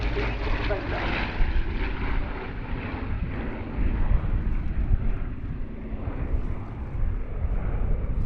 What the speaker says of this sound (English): Here it is, the Douglas A-26C Invader.